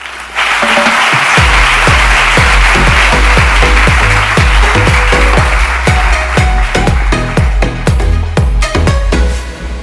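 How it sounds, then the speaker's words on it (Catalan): Large audience applauding speakers at an awards ceremony, loud dense clapping that begins abruptly and holds steady for several seconds, with a few louder individual claps standing out near the front. "Aplaudim-les."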